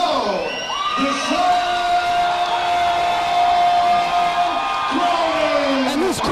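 A live fight crowd at a freestyle event roars and cheers loudly throughout, with whoops and shouts swelling under an announcer's voice.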